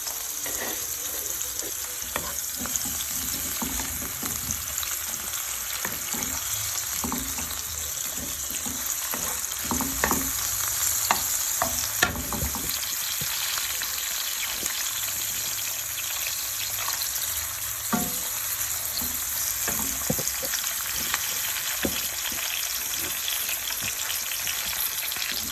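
Onions and a good amount of garlic fry in a pan over medium heat for a cheesy baked ziti, giving a steady, close sizzle throughout with occasional stirring scrapes and clinks.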